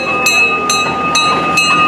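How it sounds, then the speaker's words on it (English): A train sets off with a steady rumble, and four evenly spaced rhythmic clacks come about every half second over a sustained tonal hum. "Here goes the train."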